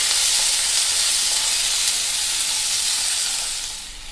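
Tomatoes sautéing in a pan after onions, while cooking mutton kulambu, make a loud, even, hissing sizzle up close that eases off slightly near the end.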